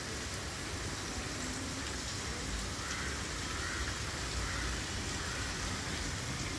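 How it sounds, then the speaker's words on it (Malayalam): Heavy monsoon rain pours steadily in Kerala, with water dripping from large trees, a dense, even hiss that holds at the same level throughout, with no voices. "നല്ല മഴ കേട്ടോ"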